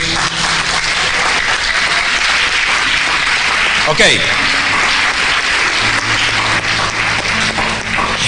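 Applause from a church congregation fills the space steadily, with a preacher's voice and other talk mixed through it and a brief sweeping sound near the middle.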